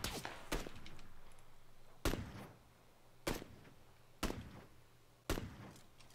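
Five sharp gunshots ring out one by one in the PUBG video game, spaced about a second apart, each a crisp crack with a short decaying tail over a low steady hum.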